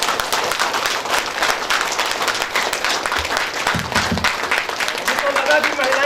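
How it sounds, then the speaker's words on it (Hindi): A women's audience at a stage show claps loudly and continuously in dense, sustained applause, with some voices audible beneath it. "एक बार जोरदार ताली स्वागत करते"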